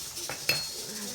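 A spoon clinks and scrapes against a bowl while cornmeal is stirred into a suet mixture for pinecone bird feeders, with a single sharp clink partway through over quiet background.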